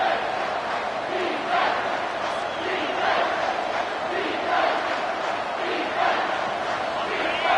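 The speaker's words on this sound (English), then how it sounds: "this crowd is bringing down the house" Stadium crowd in a Madden football video game roars steadily and loudly throughout, a dense wall of cheering with small surges.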